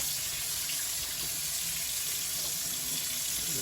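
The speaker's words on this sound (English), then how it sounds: "Go ahead and turn on some water here." Water runs steadily from a kitchen tap into a sink to rinse brine off pork belly, a constant close splashing stream with no talking.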